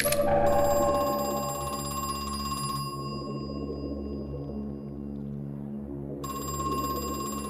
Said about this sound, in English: We got another phone ringing somewhere.